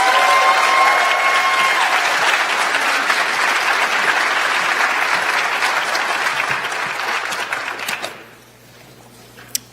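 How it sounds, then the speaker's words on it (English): Audience applause at an academic achievement and scholarship awards night, honoring the event coordinator: loud, dense clapping from a full crowd that holds steady for about eight seconds before dying away to near silence. "she is the coordinator of this entire event, and I think she deserves a loud round of applause."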